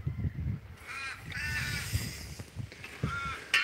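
Several crows caw in a front yard in Australia, harsh repeated calls at moderate distance over steady outdoor background noise.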